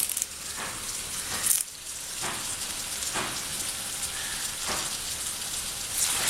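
Crushed chilli and curry leaves sizzling in hot oil in a pan, a continuous crackling hiss with a few louder spatters.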